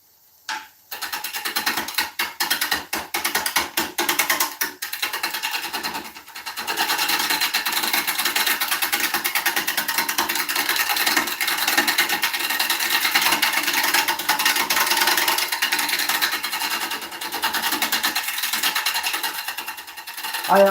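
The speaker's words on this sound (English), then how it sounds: "I am using a 1/2 inch bowl gouge here from Crown." Half-inch Crown bowl gouge cutting an oak serving bowl on a lathe, a steady loud shearing, scraping roar that runs almost continuously, broken by a few short pauses near the start.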